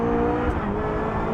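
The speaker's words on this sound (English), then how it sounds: "It's such a sweet engine. Sounds good as well." A 2020 Ariel Nomad R engine roars steadily at high revs, loud and close, a dense continuous drone with no speech over it.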